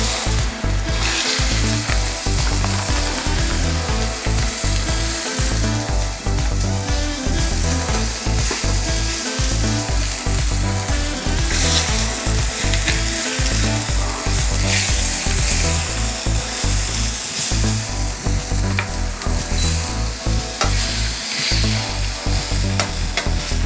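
Chopped leeks fry in a hot pan with a loud, dense, unbroken sizzle that runs close and steady from start to finish, with no talking.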